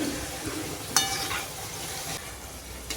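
Wheat flour and curd dough pieces fry in hot oil on a low flame, a soft steady sizzle with a spoon or utensil clinking against the pan now and then.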